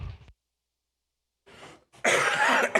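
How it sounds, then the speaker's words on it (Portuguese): A man at a city council session gives a single short cough near the microphone, with a brief throat sound just before it and a quiet pause between. "Uma tosse, esse clima, né?"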